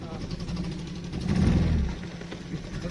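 The engine of a fibreglass houseboat runs as a steady low rumble, swelling briefly louder near the middle before settling back to an even drone.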